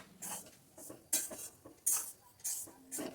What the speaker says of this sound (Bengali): তো বন্ধুরা এখন আমি চালটা ভাজবো